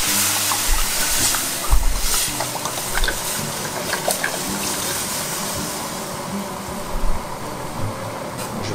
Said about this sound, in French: je vais déglacer au vin rouge